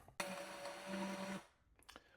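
A blender whirs on bananas for about a second, a loud steady motor buzz that cuts off abruptly, followed by a few light knocks and clatters.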